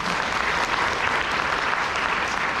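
An audience at a business seminar at the Sono Belle resort in Cheonan applauds steadily, many hands clapping in a dense, even wash that holds throughout at moderate volume.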